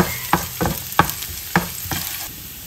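Garlic frying in oil until golden brown, a constant close sizzle broken by several sharp scraping stirs of a spatula at roughly even intervals.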